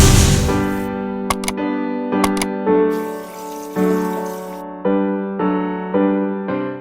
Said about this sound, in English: Make sure to give it a thorough rinse.